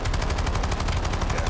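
Rapid automatic gunfire from a rifle in Call of Duty, a dense, continuous rattle of loud shots fired at long range with no pauses and no talking.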